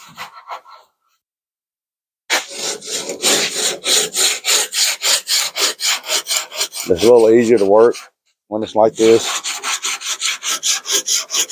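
Rhythmic, rasping strokes of sanding body filler on a car's rear quarter panel, repeated back and forth at a steady pace, with a brief spoken remark between bursts.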